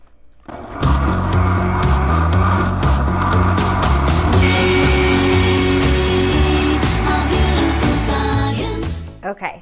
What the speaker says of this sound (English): So I'm going to walk over here and get this blender going.